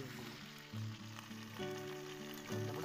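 Pork pieces fry in hot oil for a village-style pork fry cooked outdoors, a steady sizzle with harmonic tones and brief surges as oil is ladled over, continuous through the short stretch with no talk.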